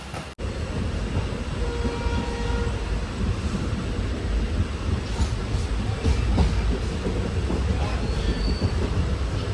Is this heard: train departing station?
yes